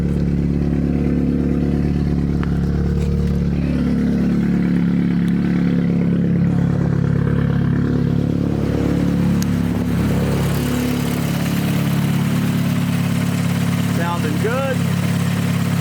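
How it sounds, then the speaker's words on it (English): A Chevy Cruze engine idles steadily with a low, continuous hum, a faint rising surge toward the end, and a voice speaking briefly over it. "Alright, she's idling."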